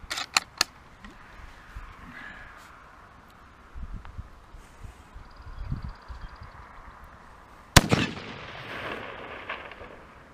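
A single sharp gunshot from a Carcano 1891 infantry long rifle chambered in 6.5x52 cracks loudly and close, with a short rumbling tail over quiet outdoor background and faint rustling.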